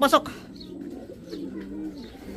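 A racing pigeon coos softly at the loft on a young-bird derby race day, a brief cluster of calls at the start followed by low, steady background murmur and faint voices.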